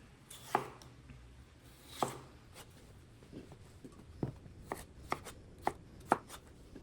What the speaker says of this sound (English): I'm gonna cut up these little red potatoes and I'm gonna add them straight to the crock pot.